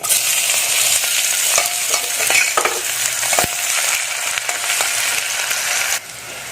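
Chopped onions hiss and sizzle steadily in hot oil with cumin seeds in a pan, a loud, continuous frying crackle with occasional stirring knocks, easing slightly near the end.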